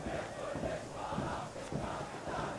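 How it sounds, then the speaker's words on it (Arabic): Al Ahli football supporters roar and chant in the stands during a Libyan Premier League match against Al Ittihad Misurata, a dense, continuous crowd sound with rhythmic rising swells and no commentary over it. "هنا الجمهور الاهلاوي رهيب"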